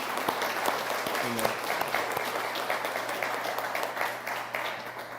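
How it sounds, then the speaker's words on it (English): An audience at a West Virginia state event applauds steadily, with dense clapping that stays even and fills the room, a brief voice near the start, and the sound easing slightly toward the end. "let's clap"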